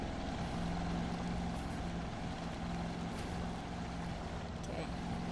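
A 1985 Chevy K5 truck in the Spintires driving game churns across a small muddy creek, its steady engine drone and water noise running loud and continuous throughout, with a voice talking over it.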